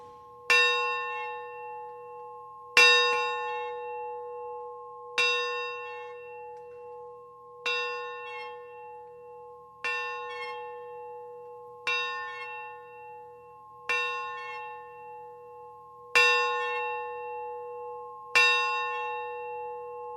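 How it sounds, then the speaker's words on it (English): A school bell rings out at a 2020 Pocono Mountain East High School graduation ceremony, struck in a slow, even series about two seconds apart, each clear ringing tone fading before the next strike, with nothing else heard. "we mark the start of our ceremony by ringing our school bell 10 times"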